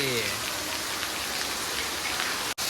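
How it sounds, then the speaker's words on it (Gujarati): Steady, dense hiss of heavy rain pouring down continuously, loud and close, with no voices, briefly cutting out near the end. "એકદમ જોરદાર વરસાદ ચાલુ થઈ ગયો છે"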